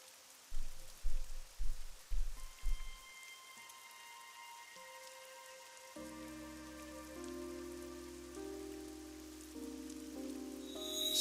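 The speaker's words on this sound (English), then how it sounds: "It's raining." Rain in the video game AI: The Somnium Files starts as a steady soft hiss under a few loud rhythmic thuds at the opening, then continues behind a swelling sustained musical score, no talking.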